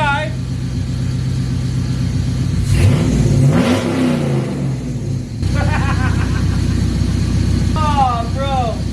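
An LS-swapped S10 Blazer running a Holley Terminator X fires up with a loud revving catch, then settles into a steady, close rumbling idle while people talk excitedly over it.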